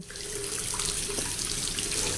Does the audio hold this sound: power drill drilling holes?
no